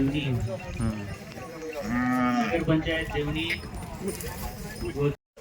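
Cattle at a village livestock show in Devani, Latur, including a local desi cow, give a long low moo rising out of the crowd noise, with people talking nearby throughout.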